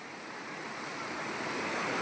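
Rushing floodwater after heavy rain surges in a steady, broadband roar that slowly grows louder, with no talk over it.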